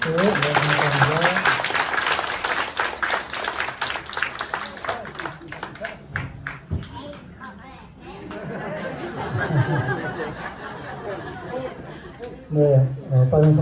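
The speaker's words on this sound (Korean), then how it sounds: "박수." A church congregation at a Christmas Sunday service breaks into applause mixed with chatter and light laughter, the clapping fading under voices and returning briefly near the end.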